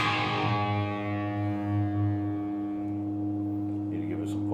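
An electric guitar plays through a Marshall amp on its Overdrive 1 channel with moderate gain, a held, distorted chord ringing with rich sustained harmonics and slowly decaying, loud and close.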